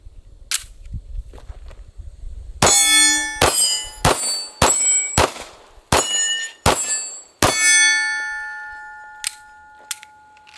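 A Smith & Wesson M&P 9mm Shield EZ pistol fires a rapid string of about eight sharp, loud shots, each followed by a bright metallic ring as steel targets are hit, with the last ring decaying in the quiet.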